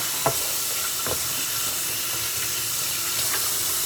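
Running water rinses a bowl in a steady, close hiss, with a few light clinks of the bowl early on.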